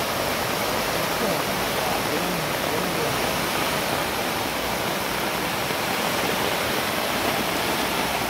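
A river swollen by flood after heavy rain rushes past, a loud, dense, unbroken roar of churning water filling the whole scene.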